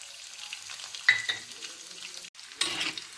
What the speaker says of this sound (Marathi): सर्व साहित्य व्यवस्थित परतून घ्यायचं